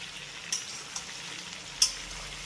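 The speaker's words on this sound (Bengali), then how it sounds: "আগের সবজির সঙ্গে এই সবজিটাকে একবার ভালোভাবে নেড়ে চেড়ে মিশিয়ে নেব" Vegetables frying in a pan for a Bengali bhog labra, with a steady soft sizzle and a few light scraping clicks of a spatula stirring through them.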